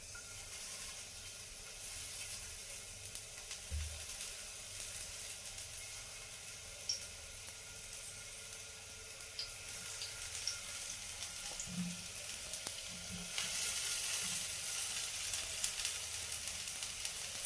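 Sliced onion and tomato sizzle in a pan for poomutta, a steady soft frying hiss that runs throughout, broken by a few faint knocks and no voices.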